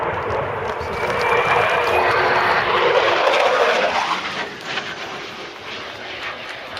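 A Royal Air Force military jet roars past at an air show on a low, fast final pass at about 100 feet and 450 mph, a loud sustained engine rush that swells and then fades.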